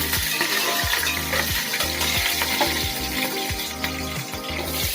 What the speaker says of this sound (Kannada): 1-2 ಸೆಕೆಂಡ್ ಫ್ರೈ ಮಾಡ್ಕೊತೀನಿ. ಹಸಿಮೆಣಸಿನ್ಕಾಯಿ ಹಾಕ್ಕೊತಾ ಇದ್ದೀನಿ.